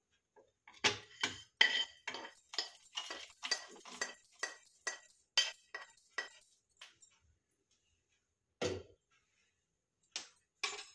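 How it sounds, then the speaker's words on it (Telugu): Fried spices are scraped from a pan into a mixie blender jar, a close run of quick metallic clinks and taps in an irregular rhythm, then silence broken by two more isolated clinks. "ఇప్పుడు దీన్ని ఈ మిక్సీ జార్లో వేసుకుందాం."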